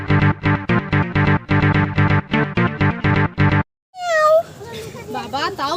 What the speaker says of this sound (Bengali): বাবা তাও ভালো বিড়াল